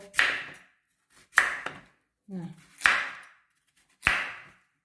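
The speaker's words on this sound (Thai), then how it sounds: "หั่นชึบชึบเหมือนหั่นแอปเปิลเลย" A knife slices through a firm, crisp pumpkin on a cutting board, five sharp crunching chops spaced about a second apart, close and clear in a quiet kitchen.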